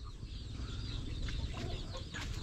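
Hens clucking steadily close by, a mother hen with her chick, with a busy, noisy farmyard background throughout.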